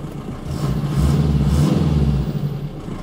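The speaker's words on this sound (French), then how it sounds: "Ce son de diesel atmosphérique." A naturally aspirated diesel engine runs steadily with a deep, throbbing low rumble, rising slightly in the middle then settling, with no voices.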